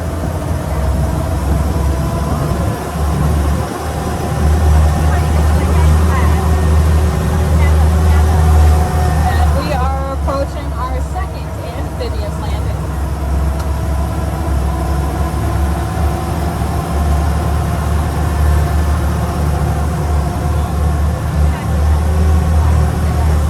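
A 1991.5 GMC six-cylinder engine of an amphibious duck boat drones loudly and steadily throughout, with a person talking over it.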